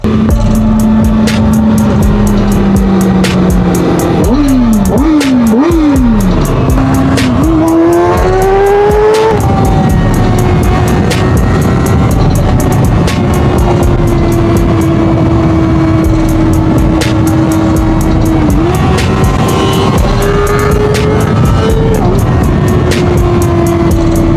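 A steady engine drone with rising and falling revs as a vehicle rides along, loud and continuous, with wind rushing throughout.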